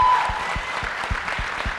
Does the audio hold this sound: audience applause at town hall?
yes